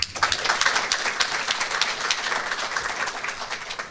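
Applause from an audience at a signing ceremony fills the room, a dense, fairly soft wash of many hands clapping at once, continuing steadily for a few seconds.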